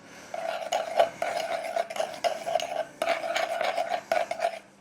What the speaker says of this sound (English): And a wee mixy, mixy, mix.